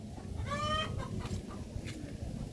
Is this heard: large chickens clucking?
yes